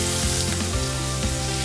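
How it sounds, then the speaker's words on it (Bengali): Chopped garlic sizzles in hot melted butter in a pan, a loud, continuous frying hiss with small crackles throughout. "বাটারটাকে একটু গরম করে নিয়ে আমি এর মধ্যে দিয়ে দেব কুচনো রসুন।"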